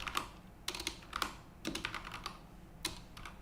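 Computer keyboard typing during a live programming session on an Arch Linux computer: irregular bursts of crisp, close key clicks with short pauses between runs, no talking.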